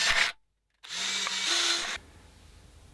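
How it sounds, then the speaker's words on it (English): An electric drill boring holes in a 30-litre KeyKeg whirs in a steady high-pitched burst for about a second, pitch shifting slightly, then cuts off into quiet background hum. "To make those holes, I'm going to use this drill."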